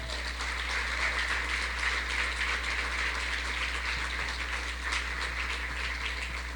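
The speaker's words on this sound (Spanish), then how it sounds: "quiero que le den un aplauso a eso" A church congregation claps steadily through a sermon, a dense, even wash of many hands that carries on throughout over a low constant hum, with no voice heard.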